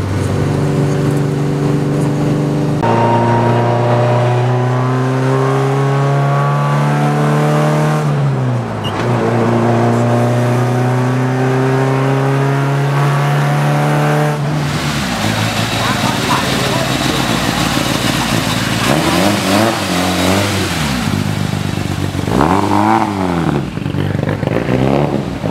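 Modified street racing cars at the Klong 5 track rev hard and idle, loud rasping engines rising and falling in repeated pulls close by, with people talking over the din.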